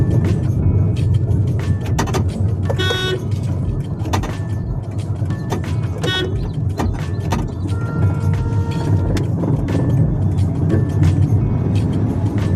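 A car rolling over speed breakers on a road, its engine note rising and dropping as the driver shifts between second and third gear; steady broadband road and engine noise throughout, with a few brief clunks from the suspension and gearbox.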